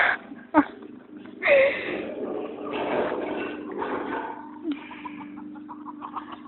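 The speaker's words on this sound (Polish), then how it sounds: "To tu są kury." Hens cluck and squawk close by in a barnyard, with a steady low hum underneath and bursts of agitated calls throughout.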